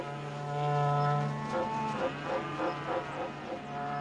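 Cattle low and moo on a ranch in Pantanal wetland pasture, a deep sustained bellow joined by a few overlapping calls from several animals, fairly close and loud with no talk.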